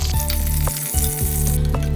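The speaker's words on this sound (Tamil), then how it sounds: "கத்திரிக்காய் எல்லா பக்கமும் நல்லா பொரிஞ்சு வரும்" Eggplant frying in hot oil for ennai kathirikai kulambu, a steady close-up sizzle with bubbling crackle running throughout, no voices.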